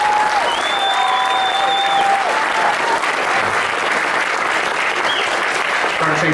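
A school audience applauds students at a Georgia middle school band concert, steady full clapping throughout, with a few whistles rising above the crowd near the start.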